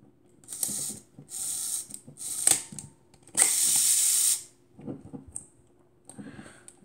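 The shutter release mechanism of an Alpa Reflex II camera is worked through several cycles, giving a series of separate mechanical whirring and ratcheting bursts, one longer than the others, then a few fainter clicks, close and clear.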